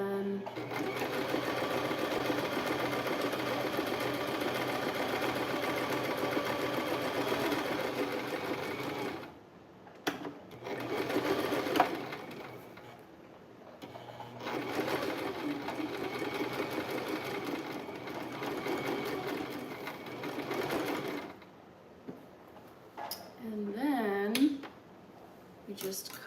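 A home sewing machine stitches a seam in steady whirring runs, stopping and starting several times with brief pauses, close and fairly loud, while a person talks over parts of it.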